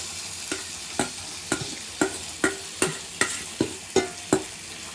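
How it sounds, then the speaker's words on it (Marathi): Marinated chicken frying in a kadhai, a steady sizzle punctuated by about a dozen rhythmic scraping stirs roughly every half second, close up with no talking. "बारी ये मैरिनेटेड चिकन की कढ़ाई में जाने का."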